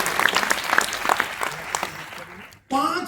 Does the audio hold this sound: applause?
yes